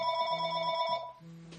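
A telephone bell rings in a steady electronic trill, loud and close, then stops partway through.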